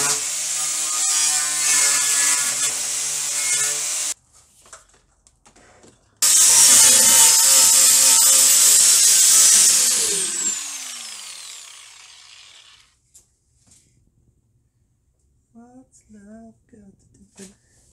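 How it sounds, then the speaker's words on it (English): An angle grinder strips rust from a metal tray while a BMW E31 850i is being restored. It gives two loud, harsh, high-pitched bursts of grinding, and the second winds down. Near-quiet follows with a few faint knocks. "I just finished with the grinder"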